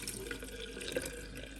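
Leftover water is tipped out of a bowl in a kitchen, giving a brief, faint splashing and pouring trickle with no speech.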